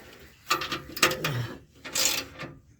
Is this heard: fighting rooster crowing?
no